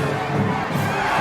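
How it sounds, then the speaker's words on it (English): A cheering crowd in a Spider-Man 3 film scene, a dense roar of many voices shouting and whooping together, loud and sustained across the whole short moment. "the crowd encourages him to kiss her"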